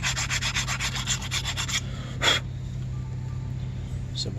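A rusty brake caliper bracket from a 2015 Ford Taurus rear brake job is scrubbed clean, giving a close, rapid series of rasping strokes followed by a pause and one more brief scrape.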